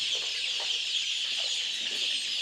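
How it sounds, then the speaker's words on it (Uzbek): A barn of 4000 black chicks, 25 days old, fills the air with dense, continuous high peeping and chirping that overlaps into a steady chorus, with no talk. "Hozir bu jo'jalarimiz 25 kunlik jo'jalar mana."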